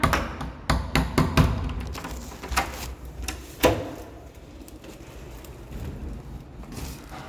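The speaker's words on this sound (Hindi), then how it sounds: "दरवाज़ा खोलना।" A home door is rattled and pushed open, giving several close knocks and thumps in a quick cluster, then a few softer bumps spread out over the following seconds.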